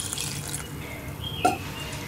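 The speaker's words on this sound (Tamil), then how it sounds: "தண்ணி ஊற்றி" Water poured into a raw rasam mixture of turmeric and rasam powder in a home kitchen, a faint trickling pour with a brief splash near the end, quiet and close.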